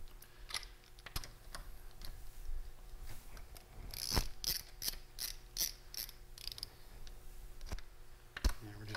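Ratchet snugging lug nuts onto the wheel of a 2009 Mini Cooper Clubman: quick irregular clicking bursts from the pawl, close and fairly quiet, with a faster run of clicks in the middle.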